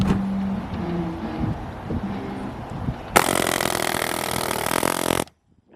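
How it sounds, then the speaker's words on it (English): A loud, harsh air chisel hammers continuously on a Sea Ray boat transom in a boatyard for about two seconds, then cuts off abruptly; quieter workshop noise comes before it. "Air chisel, air hammer."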